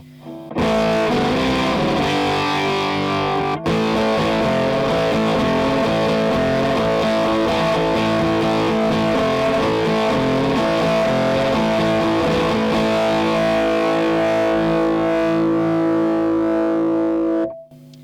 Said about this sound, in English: The treble boost does distort, and you hear that sort of sounds a bit noisy.